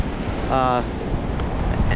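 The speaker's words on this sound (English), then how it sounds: "there was some decent waves breaking." Surf breaking on a Pensacola beach, a steady wash of wind and waves close by, with a brief tonal sound partway through.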